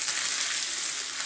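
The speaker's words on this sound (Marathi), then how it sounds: "आलं लसूण पेस्ट आणि कढीपत्त्याला थोडंसं फ्राय करून घ्यायचं आहे आपल्याला" Ginger garlic paste and curry leaves fry in a pan over a low flame with cumin and mustard seeds, giving a steady, close, bright sizzle throughout.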